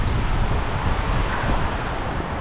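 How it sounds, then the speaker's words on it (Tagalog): Strong wind blowing outdoors on a cold day in Finland, a loud, steady, buffeting rush across the microphone with no voices over it. "Hala, ang lakas ng hangin. Para akong tinutulak."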